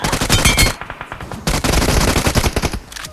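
Rapid automatic gunfire from a PUBG Mobile match rattles loud and close in dense repeated bursts, with a brief gap before the firing resumes.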